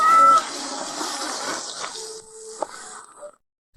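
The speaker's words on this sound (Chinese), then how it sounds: "好像有猫在叫。" A small kitten meows outdoors, giving a brief high cry followed by softer, fainter mewing over quiet background noise. No one speaks.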